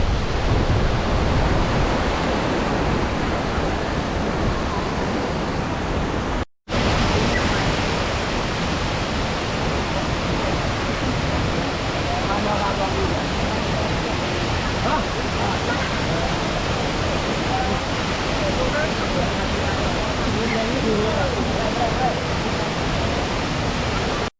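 Huai Luang waterfall in Phu Chong-Na Yoi National Park pours with a loud, continuous broadband rush of falling water, close and unbroken apart from one very brief cut.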